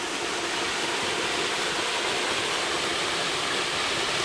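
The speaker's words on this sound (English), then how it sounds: "I made it. Behind the waterfall." Waterfall heard from behind the falling water on a hike, a loud, dense, unbroken roar of water crashing very close, steady from start to finish with no voices.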